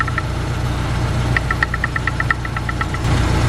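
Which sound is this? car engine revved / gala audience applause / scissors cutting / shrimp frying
car engine revved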